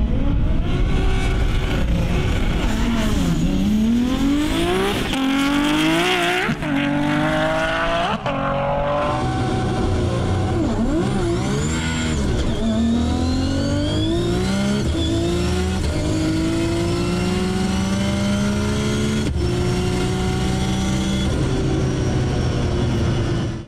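A Nissan GT-R makes a drag racing pass, its engine roaring loud and close as it climbs through gears with repeated rising revs and shift breaks, running continuously without talk.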